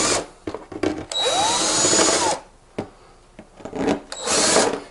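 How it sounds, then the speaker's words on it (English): A step drill bit chamfers a hole in a belt cover for a Hustler Raptor SD60 mower, with loud close bursts of whirring and grinding broken by pauses and quick taps, no talk. "you do want to hold this drill bit, this step drill, where it is 90 degrees to hole"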